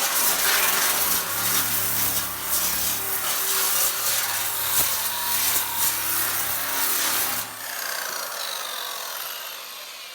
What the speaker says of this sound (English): I'm going to grind down the excess.